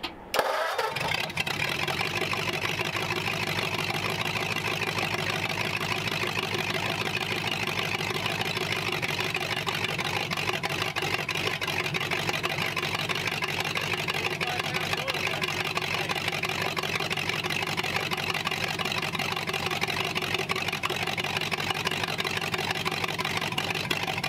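A McCulloch-supercharged Ford flathead V8 cranks and fires, then settles into a loud, steady running rumble that fills the rest of the clip without pause.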